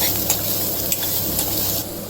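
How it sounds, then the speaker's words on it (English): Coconut sodhi bubbles in a pot while being stirred, giving a continuous close sizzle and simmer with a few soft scraping knocks from the spoon and no talking. "stir it around for at least another 10 minutes"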